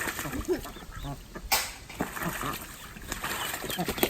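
A runner duck and a Khaki Campbell drake quack among other poultry, with repeated nasal calls mixed into a busy outdoor background, close by and moderately loud, with people talking.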